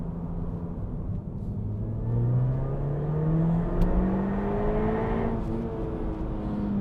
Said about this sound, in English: It's not supercharger whine, it's intake noise.